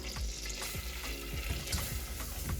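Butter frying in a pan with a steady sizzle, a dense crackling hiss running throughout with a few soft clinks and stirring scrapes.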